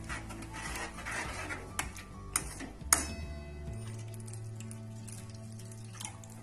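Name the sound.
water being added to masvadi curry in pot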